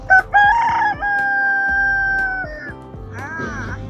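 A rooster crows loudly and close by at a family-run restaurant homestay in Nepal, one long sustained cock-a-doodle-doo with a short lead-in, fading at the end into farmyard background.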